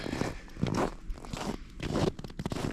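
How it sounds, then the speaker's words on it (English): Close crunching footsteps on cold snow during a hike on Belle Isle's Driker Trail in a polar vortex, several uneven steps with crackly texture, loud and near. "the sound of the snow"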